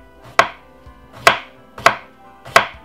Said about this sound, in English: And then I'm going to simply do some thin slices.